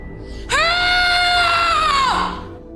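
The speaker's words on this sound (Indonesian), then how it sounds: "Vinny pun berteriak sekencang-kencangnya" A boy screams at full strength inside a soundproofed basement, one long sustained harmonic shriek that starts abruptly, holds loud and close for about a second and a half, then breaks off.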